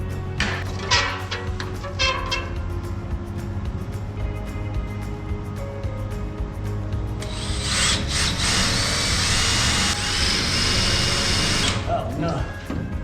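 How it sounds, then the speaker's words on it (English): Power drill boring holes through a part to be bolted on in a race shop, with several short bursts of whirring and grinding among clanks and shop noise, close and fairly loud, and talk mixed in. "Now I can drill those and bolt that on there."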